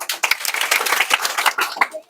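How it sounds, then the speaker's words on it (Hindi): Students in a math class clap, giving a brief burst of quick, dry, fairly close hand claps that rises and falls in uneven rhythm with no voice over it. "ताली बजाने का जरूरत नहीं है।"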